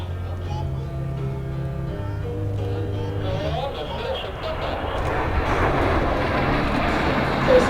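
Patrouille de France jets fly in tight grande flèche formation over the Valence-Chabeuil aerodrome air show in 2012, their engine roar swelling into a broad rushing noise while a commentator speaks over it.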